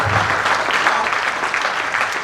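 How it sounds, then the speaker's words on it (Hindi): Loud, energetic applause from an audience at a Hindi comedy poetry show, a thick continuous wash of clapping that fills the whole short stretch at a steady level. "जोरदार ताली बजाओ जरा एक बार"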